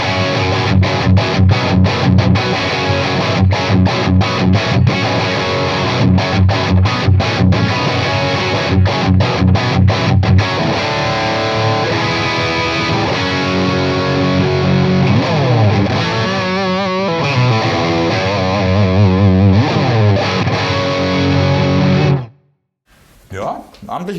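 Distorted electric guitar through a Victory Sheriff 44 amp plays loud, thick rock riffs: choppy, chugging chords with short stops for about ten seconds, then sustained ringing chords that end abruptly. There is no talking.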